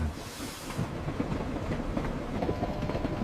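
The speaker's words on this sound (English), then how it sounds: "The train gave a long whistle, steam poured from the engine, and the carriages shuddered" A steam train rumbles along with a steady clattering roll and a hiss of steam at the start; no clear whistle stands out.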